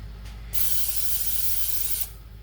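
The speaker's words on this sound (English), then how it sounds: "So I'm going to respray it and do the next one." Cooking oil is sprayed onto a pan for a potato egg omelet, giving one close, steady hiss that lasts about a second and a half after a faint short puff beforehand, with no talk.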